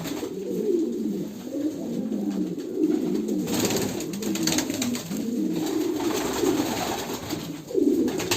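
Fancy pigeons coo steadily on a farm at feeding time, a low throaty rolling murmur from several birds close by, continuous over the whole stretch with no talk.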